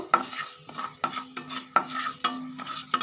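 Coriander seeds and dried red chillies fry in oil as a spoon stirs them, sharp scraping strokes landing roughly every half second over a light sizzle, close by and without talk.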